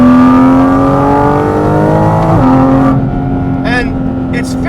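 Porsche Cayman GT4 RS engine with its air intake roaring steadily and loud from inside the car, pitch climbing then dropping as the revs change, with a short higher whine near the end.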